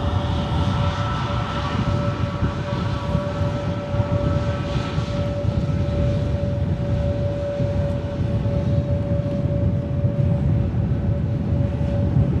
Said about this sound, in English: Lovely Pratt & Whitney engines on this Turkish Neo.